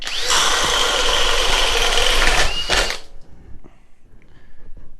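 A FLEX drill bores with a 1.5 inch stinger bit, a loud close high whine for about three seconds that then cuts off, leaving low rumbling and scattered handling noise.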